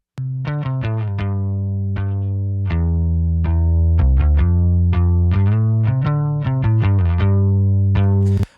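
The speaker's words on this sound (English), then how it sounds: "you can go ahead and send your bass to a little bit of chorusing and it'll make it sound bigger." A plucked bass line with a wide, shimmering chorus effect, notes played in a steady, bouncing rhythm with slight warble and thick sustain.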